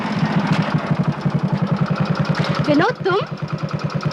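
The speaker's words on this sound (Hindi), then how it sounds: "नई मोटरसाइकिल ली है" A new motorcycle engine idles with a steady, rapid thumping pulse close by, while a voice speaks briefly over it.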